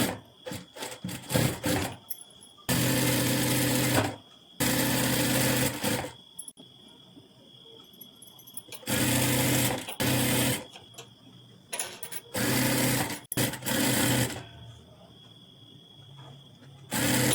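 A sewing machine stitches a size 44 princess cut blouse in loud, close bursts of rapid whirring, several lasting a second or more, separated by pauses filled with fabric handling and rustling.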